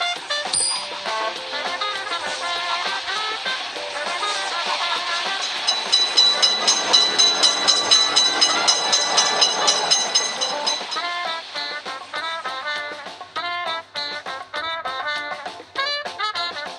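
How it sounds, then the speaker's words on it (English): A train rumbles past a cartoon railroad crossing in a game, with rhythmic clacking and a steady mechanical drone, loud and continuous, mixed with game-style tones and clicks throughout. "Train is in sight."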